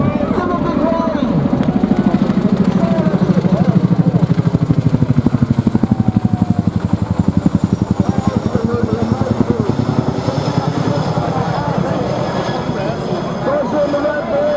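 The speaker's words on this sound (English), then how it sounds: "there's the Chinook Dash, she's flying over the top now" A Chinook helicopter passes overhead with a loud, steady, rapid rotor throb that swells and lingers through the pass, while people talk over it.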